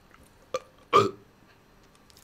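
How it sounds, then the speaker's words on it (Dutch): A single short burp, near and fairly faint, preceded by a small click-like sound, against otherwise quiet background. "Halve boer hier."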